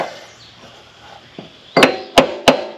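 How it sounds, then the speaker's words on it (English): Three sharp, loud metallic hammer blows drive a screwdriver into a slot in the collar on the center blade spindle of a 52-inch Wright Stander mower, spaced evenly about a third of a second apart after a quiet pause. "There's a slot in this collar, and I'll drive my screwdriver in there and see if I can."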